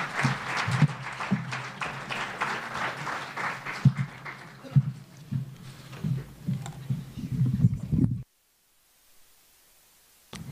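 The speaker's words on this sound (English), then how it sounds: "Let's all welcome him with a round of applause." Audience applause welcoming Jamal Raja onto the stage at a Homage to Guru 2014 evening event, moderately loud clapping with some voices, thinning out, then a pause of near silence before a brief return of sound.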